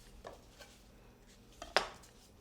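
A knife slicing through produce with the rind still on while cooking: a few soft, sparse cuts followed by one sharper clack of the blade against a board or dish, close and fairly quiet.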